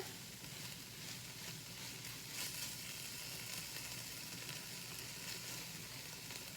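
Shrimp sizzle steadily in a hot pan for a Thai curry, a continuous close frying crackle with no talk.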